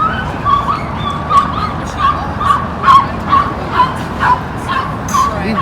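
Small dogs yip and bark repeatedly in short, high, rhythmic bursts close by, roughly one every half second, over a busy outdoor background at a pier.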